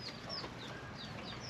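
Several chickens and half-grown chicks cluck and chirp softly at a moderate distance, with brief high peeping calls scattered over a steady low background hum.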